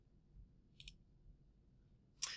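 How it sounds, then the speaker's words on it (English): A computer mouse clicks on an OK button in two short, sharp clicks about a second and a half apart, very faint and close over quiet room hum. "I'm going to click OK"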